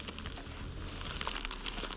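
Thin plastic packet crinkling steadily for about two seconds while fishing lures bought online are unpacked, close and fairly quiet with a continuous rustle.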